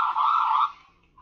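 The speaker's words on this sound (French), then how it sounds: "Donc aussi la sirène américaine." A short burst of an American police siren wail in a video game, loud and steady for half a second before dropping off, heard on its own.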